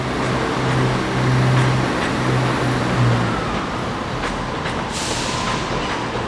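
Inside Paragon Station in Hull, a train hums and rumbles steadily under the echoing ambience of the station hall, fairly loud and continuous, with a brief hiss near the end.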